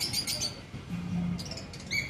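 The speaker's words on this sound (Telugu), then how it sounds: "ఈ బర్డ్స్ ఉన్నాయి ఇక్కడ." Birds chirp in short, faint high bursts at a spacious Hindu temple on JNTU Road, Hyderabad, with a few brief calls scattered over a soft background hum and no voices.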